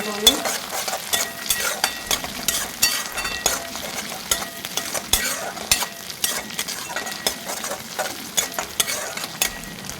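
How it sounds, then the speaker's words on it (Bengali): Ginger and garlic fry in a pan with a close, continuous sizzle under quick, rhythmic scraping strokes of a stirring utensil. "এরপর আমি আদা রসুনটা দিয়ে দিচ্ছি ভালোভাবে মিক্স করে আমি"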